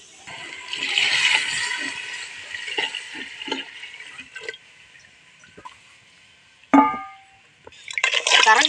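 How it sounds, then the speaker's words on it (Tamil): Water poured into a pot while making Tamil-style goat leg soup, a gushing pour near the start, then a sharp splash and a second burst of pouring near the end, with people talking faintly in between. "தண்ணி வச்சுக்கலாம்."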